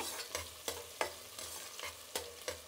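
Sliced onions fry in a pan for a coconut rice dish, a quiet steady sizzle broken by a regular series of about seven scraping stirs, close up with no voices.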